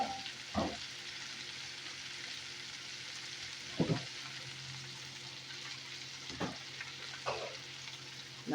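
Cabbage and sausage fry in a pan with a steady soft sizzle, broken by a few brief clanks and scrapes as tongs stir and turn the food.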